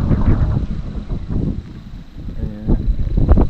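Strong wind buffets the microphone in loud, uneven gusts, a constant low roar rising and falling throughout.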